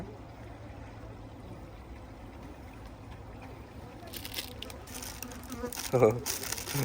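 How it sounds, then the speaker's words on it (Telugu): Faint buzzing of flies in a quiet outdoor farm field in South Korea, with some rustling and crinkling growing louder toward the end. "ఈగలు చూడండి ఎన్ని వస్తున్నాయా"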